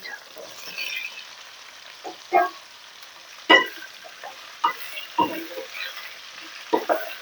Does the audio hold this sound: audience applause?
no